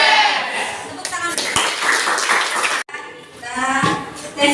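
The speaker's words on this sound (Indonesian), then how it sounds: "Tepuk tangan." Vocational school students at SMK Dinamika clap their hands in a classroom, a dense burst of claps breaking out and then fading, with voices talking and chanting among the clapping.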